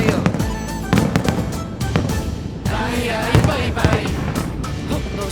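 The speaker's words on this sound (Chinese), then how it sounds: "好璀璨、好亮丽的高空烟火" Aerial fireworks at a temple anniversary celebration in Tainan burst in a rapid series of loud booms and crackles, with crowd noise and a voice heard between the explosions.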